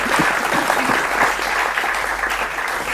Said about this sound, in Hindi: शानदार तालियों के साथ आप स्वागत कीजिए